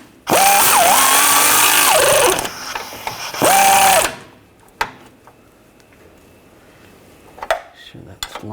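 A wrench snugs down the nut on a cam bolt of a rear lower control arm on a 2009-2017 Volkswagen Tiguan, making two loud whirring runs followed by a few sharp metallic clicks and taps.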